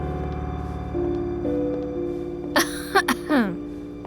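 A woman coughs a few times in short bursts, close and fairly loud, over a steady musical background in a drama scene.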